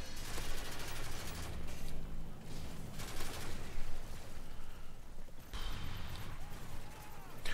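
P90 gunfire in Call of Duty MW3 during online multiplayer: dense, continuous rapid-fire bursts with other weapons and game noise crackling throughout, loud and busy.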